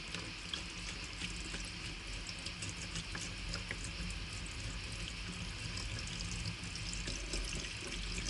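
Metal Rescue rust remover liquid pours into a container in a steady, continuous stream, a close, even rush and trickle that lasts throughout with no talking.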